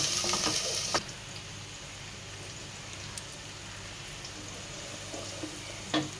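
Finely chopped garlic frying in hot oil, a soft, even sizzle running throughout, close by, with a few faint clicks and one sharp knock near the start.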